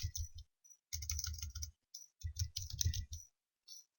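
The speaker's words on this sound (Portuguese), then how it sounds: "Eu vou digitar o usuário" Quick bursts of clicky keystrokes on a computer keyboard enter a username, close and quiet, in short rapid runs separated by brief pauses.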